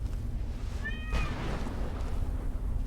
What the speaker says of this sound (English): If you were able to hear the cat